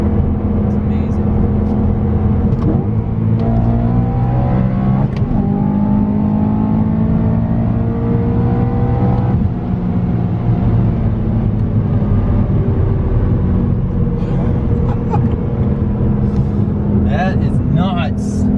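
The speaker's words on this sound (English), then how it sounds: "This thing gains speed like no other." A supercharged BMW E92 M3 with an ESS 625 kit accelerates hard, its engine drone climbing steadily in pitch under loud cabin noise, with a voice speaking over it.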